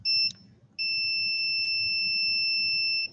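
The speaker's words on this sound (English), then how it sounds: "you can hear that beeping." A multimeter on its continuity setting beeps as its two test leads touch: a short tone, a brief gap, then one long steady high-pitched beep, with faint room noise beneath.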